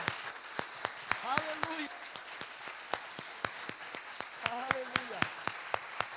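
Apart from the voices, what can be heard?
congregation applause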